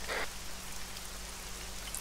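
Rain falls steadily in the military video game Arma 3, a dense even hiss of drops on surfaces that stays constant and fairly loud throughout, with no voices.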